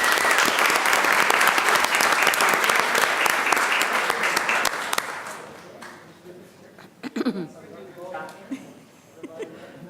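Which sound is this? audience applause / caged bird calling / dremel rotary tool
audience applause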